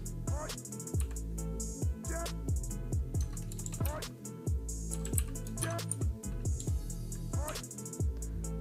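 Fingers type on a computer keyboard in a quiet room, tapping out a steady, even run of soft, close keystroke clicks with brief pauses and no talking.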